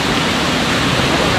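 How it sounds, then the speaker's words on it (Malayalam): A waterfall in the Nilgiri hills near the village of Padanthorai, Gudalur, heard as a steady, close broadband rush of falling water with no voices. "ഇത് വെറൈറ്റി വെള്ളച്ചാട്ടം കേട്ടോ"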